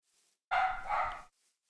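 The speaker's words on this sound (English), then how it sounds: "If you hear a dog barking, the dog's back." A single dog barks in a Minecraft-style modded game world (Sevtech Ages), one loud sustained bark-like yelp lasting under a second, heard alone against near silence.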